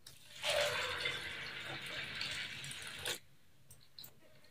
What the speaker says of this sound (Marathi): आता परत मी याच्यात नवीन पाणी ऍड करते।